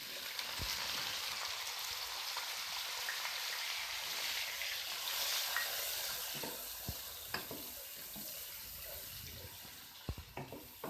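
Chopped onions frying in a pan for palak chicken, with a steady soft sizzle throughout and occasional light clicks of stirring against the pan.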